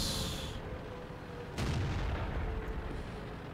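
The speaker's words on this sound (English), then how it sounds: "How can the artillery be firing that fast?" Artillery fires in the tank battle game World of Tanks, a single heavy boom landing midway over a steady rumbling engine and battle noise background, with no speech.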